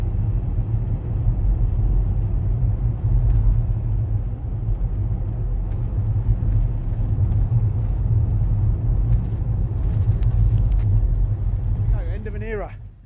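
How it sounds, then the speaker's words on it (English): A Range Rover Sport 3.0 TDV6 driving on the road after an engine repair, a steady low rumble of engine and road noise from inside the cabin, with a voice talking over it. "Sydney's car is finished. Drives beautifully, no knocks, no rattles"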